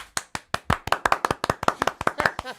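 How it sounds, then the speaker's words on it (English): A few people in a podcast studio clap by hand, about fifteen sharp, close claps in uneven quick succession, alone with no talk. "The soundboard tripping, so we gonna clap it up ourselves."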